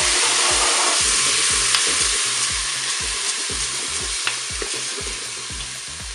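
Browned bacon strips and lentils sizzle and fry in a Cookeo multicooker, a steady loud crackle with soft stirring scrapes and clicks running throughout, no talking.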